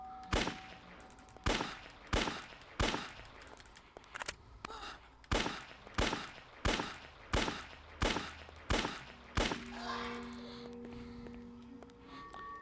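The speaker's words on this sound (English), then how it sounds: "Might as well use the gun for a little bit." Shots from a stock-sounding gun in a video game ring out as a regular series of about a dozen loud, sharp single blasts, each with a short decaying tail, before a quieter stretch near the end.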